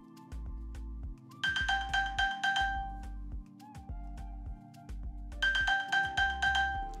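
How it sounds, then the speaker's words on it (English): An iPhone sounds its find-my-phone alert, set off from an Apple Watch: a bright electronic chiming melody in repeated bursts over a steady low pulsing tone, loud and close with no talk. "that's what it sounds like when you are trying to locate your phone from your watch"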